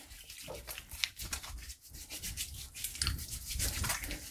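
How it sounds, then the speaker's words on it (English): Hands rubbing under a running kitchen tap before cooking deli-style corned beef, a steady close wash of water with scrubbing friction throughout. "wash my hands here"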